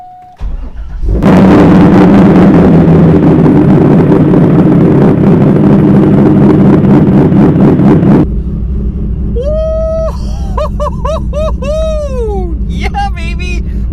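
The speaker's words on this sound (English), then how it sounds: "let's do the cold start, and this is actually going to be a really cold start" A C5 Corvette cranks briefly and fires on a cold start, roaring loudly to a high idle before settling to a lower, steady rumble, with excited voices talking over it near the end.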